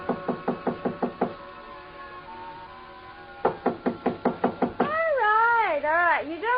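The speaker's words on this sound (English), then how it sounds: "So I tried knocking." Knuckles rapping on a hotel suite door, a quick series of about seven knocks, a pause, then another similar burst, close and crisp, with a strained wailing voice rising at the end.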